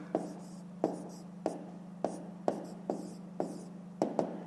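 Pen or pencil strokes on paper writing out fractions by hand, a steady series of about ten short scratchy taps and scribbles at close range over a low constant hum, with no talking.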